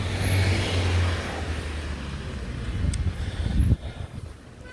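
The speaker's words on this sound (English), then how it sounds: "Wait for cars to go by, go around these trucks." Cars and trucks pass along a road in Nassau, Bahamas, heard from the sidewalk: a low engine rumble builds and recedes, then a louder vehicle surges close by before the traffic noise drops away, with no talking.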